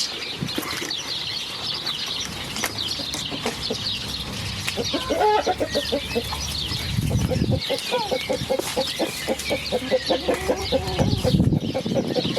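Chickens cluck and squawk nearby with wings flapping now and then, a busy mix of irregular calls and rustling that grows a little louder toward the end, while people talk quietly in the background.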